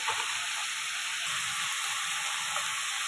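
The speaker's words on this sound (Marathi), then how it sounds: "तर आता ह्याच्यामध्ये मी वाटण मिक्स करते." A soft, steady sizzle comes from a pan on the stove as ground spice paste is mixed in for khengat. It is faint and continuous, with light stirring scrapes.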